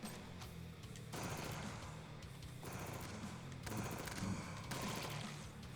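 Submachine gun fire in the video game Jupiter Hell: repeated rapid bursts of automatic shots with booming impacts, loud and dense, separated by brief lulls.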